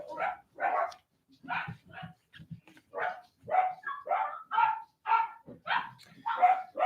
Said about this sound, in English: crazy loud dogs in the other room, barking like crazy